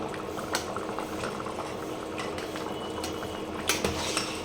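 A pot of potato vegetable curry simmers on the stove, a continuous close bubbling and hissing with occasional sharper pops and splutters, steady throughout with no voices.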